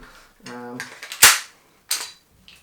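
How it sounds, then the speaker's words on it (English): A spring-loaded pistol magazine, similar in size to a 1911 mag, pops out of the grip with one sharp, loud snap and a lighter clack after it, just after a brief voice. "let's pop the mag out"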